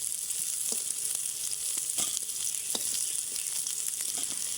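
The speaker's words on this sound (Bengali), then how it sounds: "আমি আলু ফুলকপি হালকা করে ভেজে নিয়েছি, এবার তুলে নিব তেল থেকে ছেঁকে ছেঁকে।" Potatoes and cauliflower frying lightly in hot oil in a wok give off a steady, close hiss of sizzling, dotted with small crackles and pops throughout.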